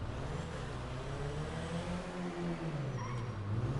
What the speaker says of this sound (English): Ooh, look at those exhausts shake.